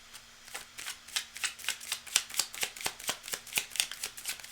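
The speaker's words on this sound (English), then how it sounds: "So I'll just shuffle these up" A deck of cards being shuffled close up, with a steady series of crisp riffling flutters repeating at a regular rhythm, soft and without talk.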